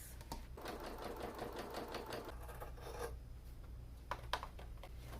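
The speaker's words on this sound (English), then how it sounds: "We had our straps ready, and now we're going to sew in both sides." A sewing machine stitches both sides of a lined fabric bag, running in a quiet, fast, even whir with a few short pauses and small clicks near the end.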